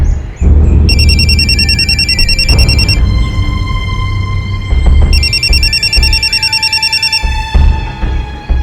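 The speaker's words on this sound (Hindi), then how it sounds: "पापा, फोन।" A telephone rings in a home drama scene, two long bursts of loud, rapid electronic bell trills separated by a pause, over a background of low household noise.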